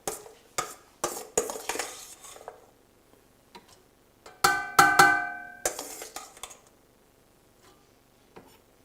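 Ingredients tip into the metal bowl of a Kenwood Cooking Chef Gourmet while a beef bourguignon is being made, giving a run of clanks and clatters, a short pause, then another burst of clinking scrapes.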